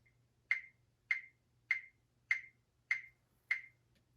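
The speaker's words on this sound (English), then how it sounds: "Right now it's set to 100 beats per minute, which sounds like this." A metronome at 100 beats per minute gives six sharp, evenly spaced clicks, crisp and isolated against near silence.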